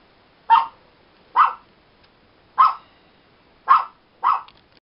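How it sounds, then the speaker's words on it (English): A dog barks five times in sharp, evenly spaced single woofs, close and clear, against a quiet room with no talking. "And that's my goofy dog."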